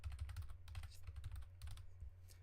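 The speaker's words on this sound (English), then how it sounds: "Maybe it's the typing." Rapid typing on a computer keyboard, a steady run of close, crisp key clicks in irregular bursts with no talking, over a low hum.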